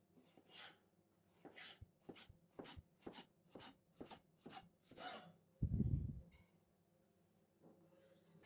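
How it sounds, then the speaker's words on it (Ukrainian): A knife cuts tomatoes into thin half-rings on a wooden board, giving about ten crisp, evenly spaced slicing strokes up close, then a heavier thud and a short scrape. "І нарізаємо ось такими тоненькими півкільцями."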